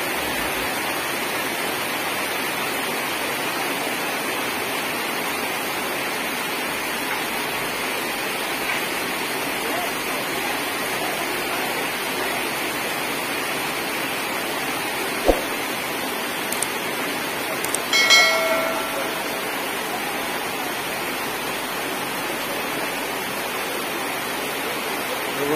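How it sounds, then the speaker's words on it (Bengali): Heavy rain pours down in a dense, steady hiss that stays constant throughout, with a brief knock and a short burst of clatter partway through. "প্রচন্ড পরিমাণে বৃষ্টি হচ্ছে।"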